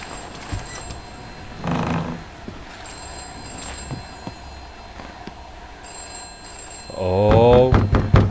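A telephone rings in the horror game I'm Counting To 6, in two short bursts of bell-like ringing, a brief one early on and a louder, longer one at the end, over a quiet, eerie background.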